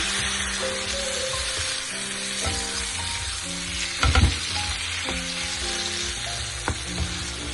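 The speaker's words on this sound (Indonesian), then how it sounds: "Kita tumis lagi sampai layu." Steady, loud sizzling of sliced tomatoes stir-frying in a hot pan, with a few clinks and scrapes of stirring around the middle and near the end.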